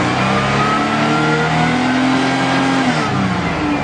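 A Pontiac car engine idles steadily right after starting, having sat two years on old gas, with a loud continuous close-up hum and a slight rise and fall in pitch.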